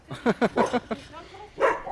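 Several dogs barking at an animal shelter, a quick run of sharp close barks, then a pause with softer whines before another loud bark, no talking.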